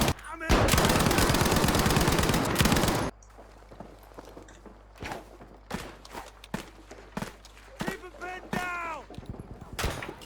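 A Lewis machine gun fires in a long, loud, rapid sustained burst in a Battlefield V match, followed by scattered shots, footsteps and other battle noise, with someone talking over it.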